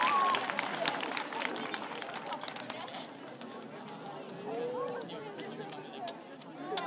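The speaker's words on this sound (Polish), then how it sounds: "Oklaski, oklaski." An audience at a school event claps in a brisk burst of overlapping hand claps that gradually thins and fades, with murmured crowd chatter underneath.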